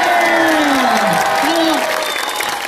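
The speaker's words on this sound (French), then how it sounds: "tenez un applaudissement pour notre invité." A crowd at the Verdun fair applauds a guest, a dense roar of clapping and some cheering mixed with voices and a sliding tonal sound.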